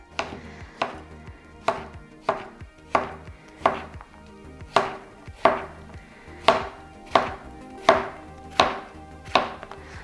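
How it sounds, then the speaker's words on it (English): A knife cutting zucchini into small pieces on a cutting board, about fifteen crisp, evenly spaced chops close up with no talk. "So just go ahead and finish cutting up your zucchini."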